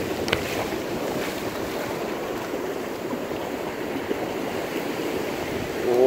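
Ocean waves break and wash on a surf-fishing beach on the Boso Peninsula, a steady close roar of surf mixed with wind buffeting the microphone, no voices heard.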